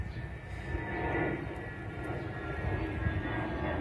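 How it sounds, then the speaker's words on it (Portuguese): A propeller or jet airplane passes overhead outdoors, a steady low broadband engine rumble that swells slightly and holds throughout, moderately loud with no talking, near a quail breeding setup. "Só vai ter um barulho de avião aí"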